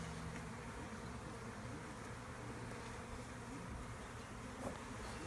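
Honey bees swarm at backyard hives, a steady close buzzing drone that fills the air evenly throughout, with no voices.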